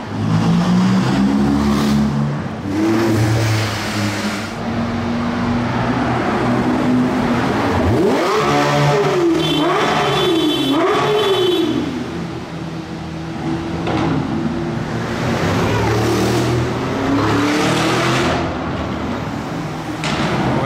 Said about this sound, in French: il tape un rupteur avec la GT3 RS